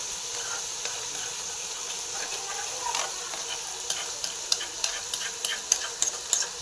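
Food sizzling steadily in hot oil, a dense close crackle with sharper pops and spits growing more frequent toward the end, no voices.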